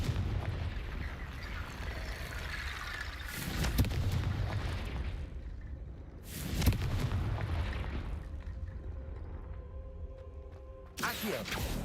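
Confringo explosive spells burst in Hogwarts Legacy, with three heavy booms spaced several seconds apart over a rumbling game soundscape.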